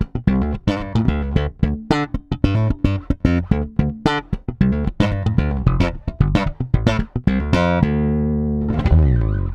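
A Fender American Professional II Jazz Bass plays a busy run of plucked notes with strong, deep low end, steady and close, ending on a ringing sustained note with no talking.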